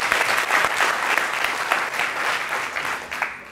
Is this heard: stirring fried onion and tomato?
no